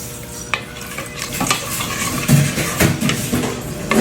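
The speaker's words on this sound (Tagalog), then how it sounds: "Mix lang natin siya para hindi agad siya magana." A spoon stirs gulaman (agar) mixture with sugar and water in a pot, giving repeated scraping swishes and soft clinks against the metal, moderately loud and close, with no talking.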